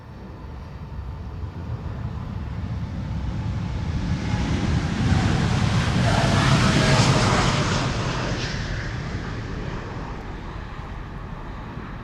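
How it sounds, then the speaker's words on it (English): American Airlines Boeing 787-8 Dreamliner taking off from Amsterdam's Polderbaan runway, a distant jet roar that swells to a peak midway and then fades, with broadband wind-like rushing throughout. "This is American Airlines going to Dallas, Fort Worth, Texas, flight 221"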